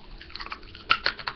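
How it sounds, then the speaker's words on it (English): A red and blue ring pop candy being chewed up close, wet crunchy bites and squishy smacks in quick irregular bursts, with no talking. "I'm just chewing it. It's a red ring pop and blue."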